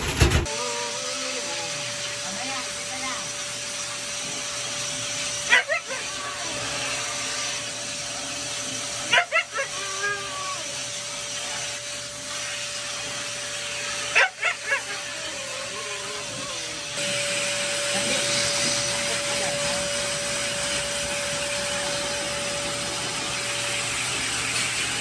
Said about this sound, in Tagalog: kakatapos ko lang silang i-blower